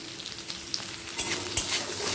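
Potatoes fry in a pan with green chillies, salt and turmeric, giving a continuous hiss that grows louder as a spatula scrapes and turns them a couple of times.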